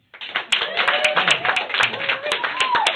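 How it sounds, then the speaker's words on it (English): A comedy club crowd claps and applauds steadily for a few seconds, sharp hand claps over a dense wash, with some voices mixed in. "I demand that applause"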